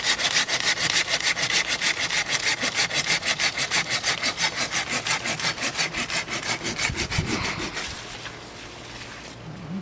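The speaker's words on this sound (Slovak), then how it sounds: "Tu napríklad režem na prevod" A hand saw cuts through a fig branch during summer pruning, with rapid, regular back-and-forth strokes, close and loud, slowing and trailing off near the end.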